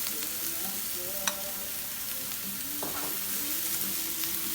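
Onion sautéing in a pan for creamy cheesy spaghetti, a soft steady sizzle with a few light clinks of stirring, no talking.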